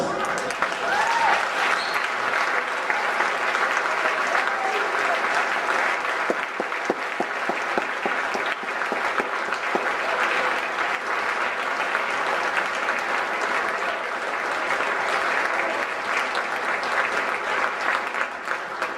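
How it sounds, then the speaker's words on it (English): Sustained applause from an evening audience for two keynote speakers, a dense, steady wash of clapping filling the room for nearly twenty seconds without letting up. "Let's have another round of applause for both of tonight's keynote speakers"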